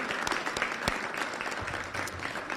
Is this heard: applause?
yes